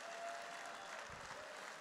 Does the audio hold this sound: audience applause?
yes